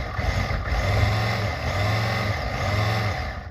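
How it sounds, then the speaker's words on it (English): A custom 1/18-scale G.I. Joe RC Jeep with a brushed electric motor drives along, giving a steady close whirring drone with gentle rises and dips in pitch as the throttle varies. "This is not this is a brushed motor, but imagine a brushless motor in here."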